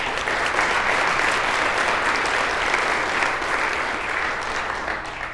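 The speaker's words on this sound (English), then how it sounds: "Let's give her one big round of applause." Sustained applause from a large crowd at a Hall of Fame ceremony, steady and loud throughout, tapering slightly at the very end.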